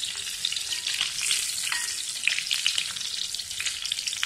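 Stuffed brinjals frying in hot oil in a pan, a steady close sizzle with crackling pops and occasional stirring, heard alone without talk.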